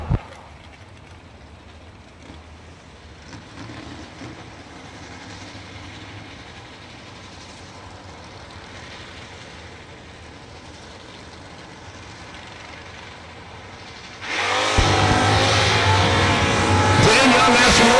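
Drag race cars, a Ford Mustang notchback and an ex-stock eliminator Firebird, sit idling at a distance, then erupt into a loud, sustained roar as they launch down the strip.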